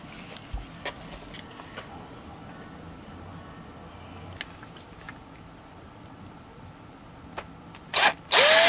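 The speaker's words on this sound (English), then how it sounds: "A hole was drilled in the end for the power socket." A power drill bores a hole in the end of a DIY LED digital clock case for the power socket; after a quiet stretch, two short, loud bursts of drilling come right at the end.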